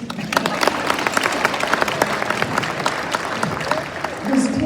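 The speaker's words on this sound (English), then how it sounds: "go ahead, clap for him" An audience at a literary luncheon and awards event applauds a student honoree, a dense, steady patter of many hands filling the room, with a few voices murmuring underneath and a brief swell near the end.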